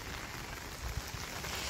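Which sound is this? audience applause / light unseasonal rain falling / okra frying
light unseasonal rain falling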